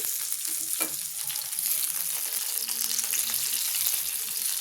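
Long-cut eggplant slices seasoned with salt and turmeric fry in a pan with a dense, steady, close sizzle that carries on evenly throughout, with a faint scrape of stirring and no one talking.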